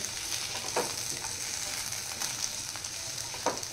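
Sweet potato slices frying in ghee give a steady, moderately faint sizzle with soft crackles, while occasional utensil scrapes and stirs rise briefly above the continuous hiss.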